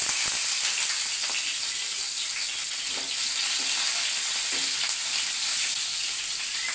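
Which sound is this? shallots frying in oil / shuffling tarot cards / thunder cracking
shallots frying in oil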